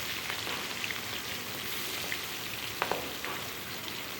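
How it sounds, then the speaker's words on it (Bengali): Pieces of boal fish frying in mustard oil in a wok: a steady, dense sizzle and crackle that fills the whole stretch, with a few sharper pops rising above it. "বোয়াল মাছটা ভীষণ পরিমাণে তেল ছিটকায়, তাই এটা কিন্তু আমি একটু ঢেকে ঢেকেই ভেজে নেব।"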